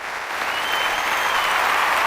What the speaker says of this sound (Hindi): खुशी से तालियां बजाईं